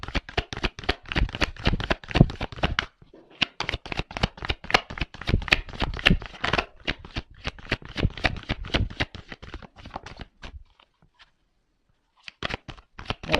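Playing cards being shuffled and drawn for a tarot-style card reading, a dense run of quick riffling snaps and slaps close up, pausing briefly near the middle and going quiet near the end before a few last flicks.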